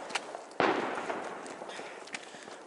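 A New Year's Eve firework bursts with one sharp, loud bang, followed by a crackling outdoor wash and a few smaller pops nearby and in the distance.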